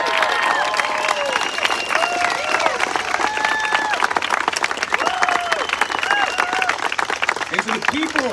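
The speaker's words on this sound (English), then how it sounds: "let's give them a huge round of applause" Outdoor rally crowd in Leesburg, Virginia applauding and cheering, dense continuous clapping with shouts and whistles mixed in, loud and sustained.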